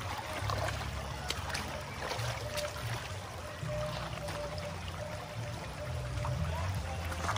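A small forest waterfall pours between two trees, a steady broadband rush of falling water with occasional splashes, fairly faint and continuous throughout, with no voices.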